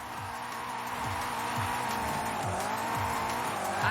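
A drift car in Forza Horizon 5 slides with continuous tire squeal over a revving engine, the engine note rising and falling in a regular repeating pattern, steady and close with no talk.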